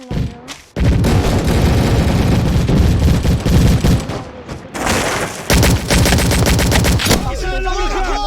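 Dense, loud bursts of rapid gunfire and heavy booms in the video game Recoil fill most of the stretch, with short pauses between volleys and the battle noise continuing to the end.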